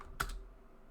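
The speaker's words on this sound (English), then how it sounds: "So now when we press the spacebar" A single spacebar press on a computer keyboard: one quick, close plastic click with a short rattle, followed by quiet.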